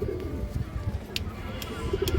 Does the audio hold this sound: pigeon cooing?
yes